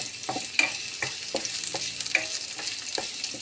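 Garlic and ginger sizzle steadily in a pan for squash lunch cooking, with a continuous hiss broken by repeated scraping stir strokes, close and fairly loud, no voices.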